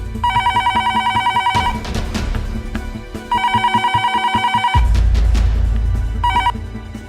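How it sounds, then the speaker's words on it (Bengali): A telephone rings late at night in a home, its electronic bell repeating in loud, close bursts of rapid trills separated by short pauses, with a low thump partway through and no one speaking. "এত রাতে আবার কার ফোন"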